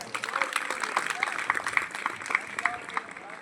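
Applause from an audience at a higher secondary school Republic Day (26 January) function, honouring the school family; scattered claps rise over steady crowd murmur, moderately loud and fairly close.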